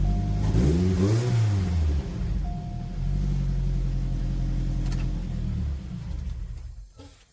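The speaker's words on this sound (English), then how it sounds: "I'm going to go ahead and do a quick test start just to make sure I did everything right" A Chevrolet Cobalt SS with the LSJ engine starts after fresh spark plugs: a brief cranking whir catches into a loud rev, then settles into a steady close idle that fades near the end, with no talking.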